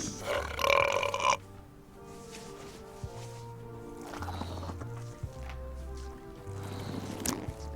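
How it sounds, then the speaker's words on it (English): Cartoonish belches from a burping contest in the Monkey Island video game, several long, low, drawn-out burps one after another over soft background music. "Hey, how about a burping contest?"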